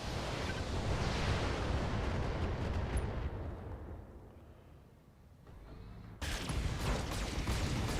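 Mech weapons fire in the video game BattleTech, with dense, continuous booming barrages that dip briefly into a quieter lull before another loud burst of fire erupts near the end.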